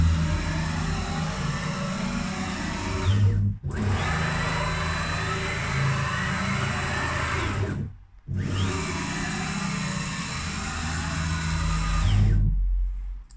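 A CNC machine jogs rapidly under keyboard control, its stepper motors giving a loud continuous whirring whine in three long runs separated by short pauses.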